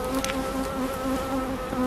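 A dense, steady buzzing of many honey bees at a traditional basket hive, close and continuous throughout.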